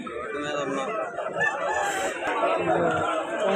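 A country rooster crows amid a busy Sunday market for native roosters in Vijayawada, its call rising over a dense wash of crowd noise and other fowl, with people talking around it.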